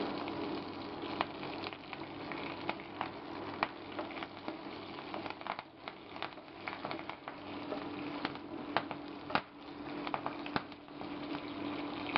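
Curry leaves dropped into hot oil, a faint, steady crackling sizzle with scattered sharp pops over the whole stretch, heard alone.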